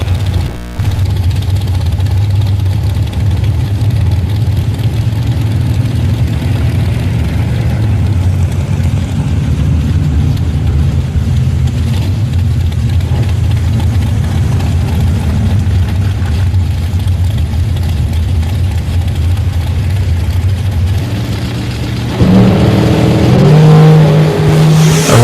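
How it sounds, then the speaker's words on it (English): A 1974 Chevy Nova drag car sits at a drag strip, its engine idling with a loud, lumpy rumble before revving sharply near the end. "Earl Griffith got the car fired again, 74 Nova."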